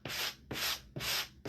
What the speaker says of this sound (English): with my sanding block,